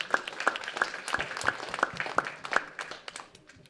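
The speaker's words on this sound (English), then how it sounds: "give another round of applause for all the hard work that the SDI students did today" Scattered applause from a small audience at a student screening event, individual claps distinct and fairly quiet, with faint voices underneath as it tapers off.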